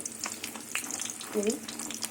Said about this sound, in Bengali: তেলটা গরম হয়ে গেছে এবার বড়িগুলো ভেজে নেবো